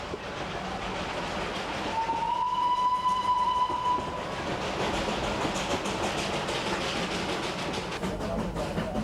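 A Darjeeling Himalayan Railway mountain train whistle sounds one long, steady note for about two seconds over the constant rumble and clatter of a moving train.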